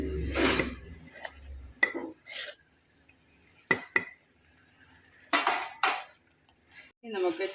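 A spoon scrapes and clanks around a metal pot as grated coconut is stirred into pongala, coming in short separate bursts of rasping and clinking with quiet gaps, close by.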